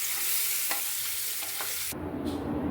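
Boiled eggs, lightly scored and coated with chilli, pepper and turmeric powder, frying in hot oil, a loud continuous sizzle with a few stirring knocks and a brighter hiss near the end.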